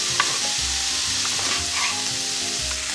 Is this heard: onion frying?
yes